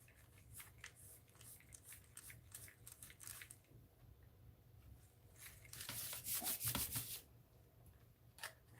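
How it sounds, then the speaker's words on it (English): Scrubbing dirt out of screws gives dry, irregular rubbing and scratching bursts, close and fairly quiet, with a denser, louder stretch of brushing near the end. "I'm just getting all the dirt out of these screws."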